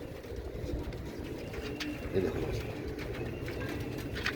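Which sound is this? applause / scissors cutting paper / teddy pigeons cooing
teddy pigeons cooing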